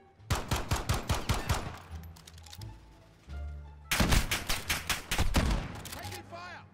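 Gunfire in the Modern Warfare beta: rapid automatic bursts rattle out loud and close, pause briefly, then another long volley hammers away.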